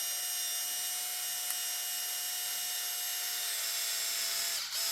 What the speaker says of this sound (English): stick the screws through the hole and screw them in until they engage the nuts